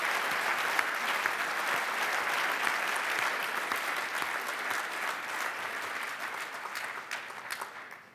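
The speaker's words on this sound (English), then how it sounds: "please join me in one more round of applause for the Franz Edelman finalist teams" Sustained applause from a large gala audience at an awards banquet honoring operations research finalist teams, steady and dense throughout and tapering slightly at the end.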